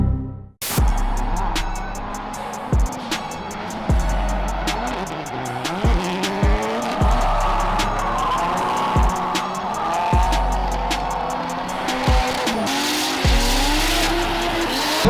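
A video-game race car roars at high revs with repeated gear shifts and tires squealing through turns, loud and continuous, with no talking.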